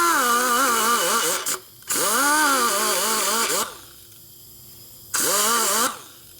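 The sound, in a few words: high-speed cutter porting Harley cylinder head at low RPM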